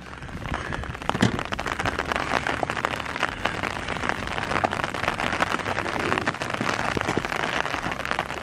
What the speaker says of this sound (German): es fängt auch noch an zu regnen